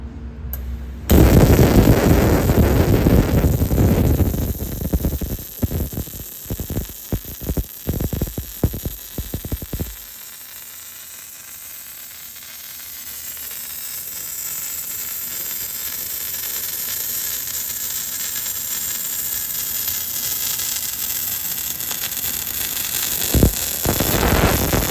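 A Welda-round 300 orbital welder lays a metal core weld on a part: a loud crackling, sizzling arc at first with sharp bursts, then a long, quieter steady hiss and hum.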